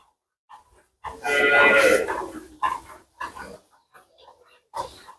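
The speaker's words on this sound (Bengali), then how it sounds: "পিওর একদম শঙ্কর ফ্রিজিয়ান গাভী" A crossbred Friesian cow lets out one long, loud moo up close, followed by a few shorter grunting calls and scattered farmyard noises.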